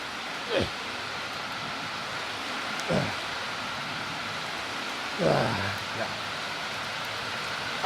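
Steady rain falls around a sheltered home workout area outdoors, a constant hiss with a few brief louder knocks and rustles from movement, no voices.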